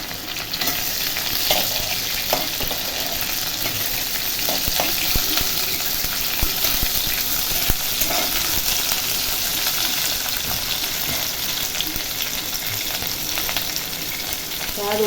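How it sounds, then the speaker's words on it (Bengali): Pointed gourd frying in oil with dry red chilli and five-spice tempering, a dense loud sizzle that holds steady throughout, with occasional spatula scrapes and no speech. "ফোড়নটা হলে আগে পটল ছাড়বো। পটলটা একটু ভাজা হয়ে যাবে,"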